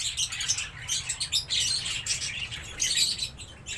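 Small lutino opaline bird chirping in quick, irregular bursts of high tweets, fairly close, with a low rumbling background.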